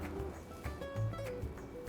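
Gulls on a steep, narrow street in Girona give harsh, laughing calls, a few short cries rising over quiet background ambience.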